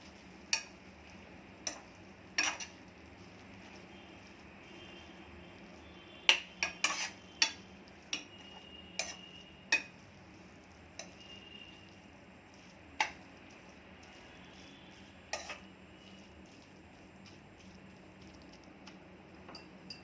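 A spatula stirs fenugreek (methi) bhaji with crushed peanut powder in a pan, giving scattered sharp metallic clicks and taps against the pan over a quiet, faint cooking background, with no voices.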